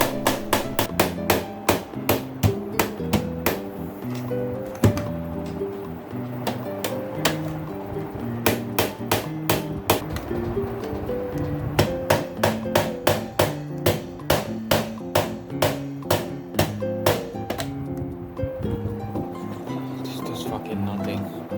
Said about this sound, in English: destroying it by hammering it down with a nail